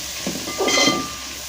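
Chicken curry ingredients frying in a pan as they are stirred, giving a brief close scrape and a soft sizzling hiss over about a second.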